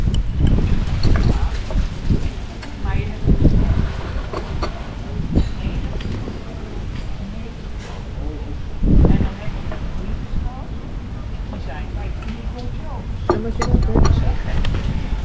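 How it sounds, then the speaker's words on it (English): Gusty wind buffets a microphone outdoors in Greenwich on a breezy day, with irregular low rumbling thumps rising and falling throughout. "There's a lovely breeze here"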